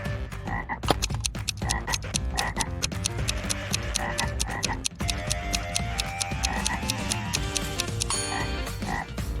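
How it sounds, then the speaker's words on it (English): Frogs croak in a dense, continuous chorus of rapid rhythmic clicks and ringing calls that layer over one another, loud and steady throughout with no voices. "A frog is at the bottom of a well."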